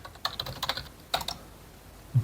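Quick bursts of typing on a computer keyboard, a few clustered clicks followed by a pause and a final tap, close and fairly quiet with no talk.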